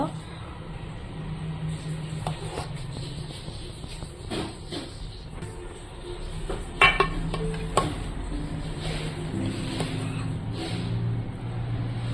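A spoon scrapes and clinks against a pot while cooked chicken dum biryani rice is turned over from the bottom, giving soft intermittent scrapes and a few sharper metallic knocks against a low background hum.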